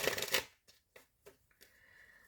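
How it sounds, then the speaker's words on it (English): Tarot cards shuffled in a loud riffle burst lasting about half a second, then a few soft separate card taps and slides, close and alone, ending on a faint steady tone. "I'm going to shuffle."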